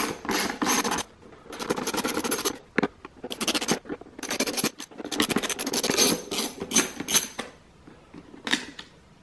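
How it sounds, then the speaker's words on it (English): T10 Torx screws come out of the back of a BMW instrument cluster from a 2008 335i, heard as close, scratchy, gritty bursts of turning and scraping in irregular short spurts. "take out these 4 T10 torx screws on the back side"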